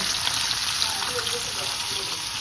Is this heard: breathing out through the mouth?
no